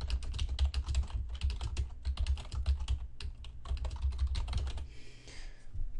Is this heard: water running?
no